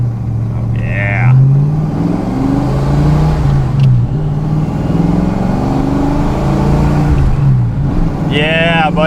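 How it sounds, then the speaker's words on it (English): Engine of a rare 1979 Mustang Cobra Foxbody fitted with an upgraded exhaust, a loud steady rumble that swells and eases under continuous nearby talk. "it's got like quintessential Foxbody sound"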